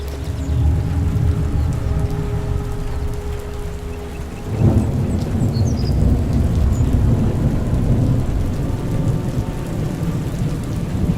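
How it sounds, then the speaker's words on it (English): Loud thunder rolls out of a storm over steady heavy rain, with a deeper rumbling surge about halfway through and a continuous dense wash of rainfall throughout. "it rose out of the clouds with the loud sound of thunder"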